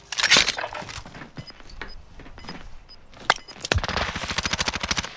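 Rapid automatic gunfire from a Call of Duty Warzone firefight, with loud bursts up front, scattered single shots and clinks between them, and a fast rattling volley near the end.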